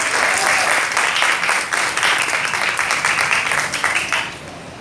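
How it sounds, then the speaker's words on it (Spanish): Audience applause fills a hall at the 2019 Cali book fair, a dense, steady clapping roar that holds for several seconds before starting to fade near the end. "Recibámoslo pues con un aplauso, animado."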